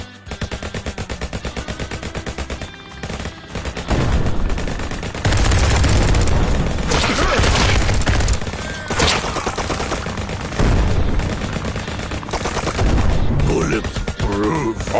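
Gunfire in the VR shooter Bulletproof: bursts of rapid shots and blasts over music, loud and dense, with quieter gaps between the volleys.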